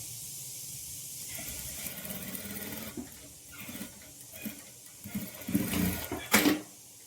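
A sewing machine stitches the side seam of a high-neck blouse in faint, intermittent runs, with soft whirring bursts and a louder rattle near the end.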